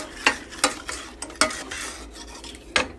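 A spoon stirring sugar in pineapple juice in a pan for a coconut pound cake, sharp rhythmic scrapes and clinks against the pan every half second or so, close and crisp over a faint background.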